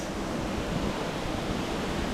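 Double waterfall in high flow plunging into a pool in Gifford Pinchot National Forest, a steady broadband roar of rushing water, close and continuous with no voices.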